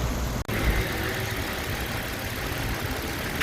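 A Renault Samsung SM7 2.3 V6 engine idles roughly up close with a misfire, shaking and rattling in an uneven, lumpy rhythm, loud and steady apart from a brief dropout near the start.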